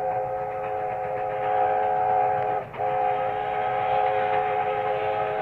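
A long, sustained steam locomotive whistle, a bronze whistle, blows loud and steady, with a brief dip in the middle before resuming its tone.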